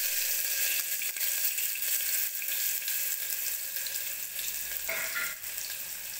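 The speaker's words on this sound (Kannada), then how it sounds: "ಆ ಬಿಸಿಯಾಗಿರೋ ಎಣ್ಣೆಗೆ ಈರುಳ್ಳಿ ಹಾಕ್ತೀನಿ ಫಸ್ಟು." Onions sizzle loudly in hot oil in a pressure cooker, making a dense, continuous hiss that fills the whole stretch close up. There is a brief stir or scrape near the end.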